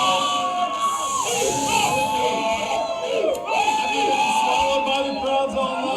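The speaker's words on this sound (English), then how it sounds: "Huge crowds of fans spilling into the streets to cheer on the Dodgers" Huge crowd of Dodgers fans cheering and shouting in the streets of East LA, a dense, continuous roar of many voices with whoops and yells, loud and close throughout.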